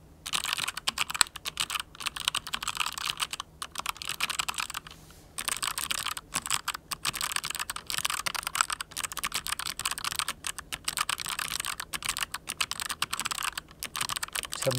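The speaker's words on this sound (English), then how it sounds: "So basically you're now hearing also twice as many clicks because you get the actuation and the release of every keystroke." Rapid, continuous clicking of an MSI Vigor GK50 Elite mechanical keyboard being typed on, each keystroke giving a click on press and again on release, close and steady with only a brief pause.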